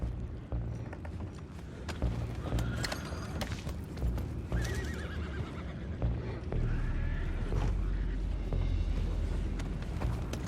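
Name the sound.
horses neighing in Red Dead Redemption 2 video game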